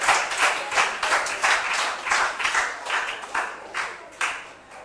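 Group clapping for a substitute player coming on at a school quiz contest, a rhythmic series of moderately close, evenly spaced claps carrying on throughout.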